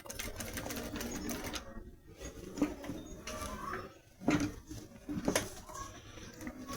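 A sewing machine stitches clear plastic onto a brush case, a fairly quiet uneven whirring and clatter with short pauses and bursts as the seam curves.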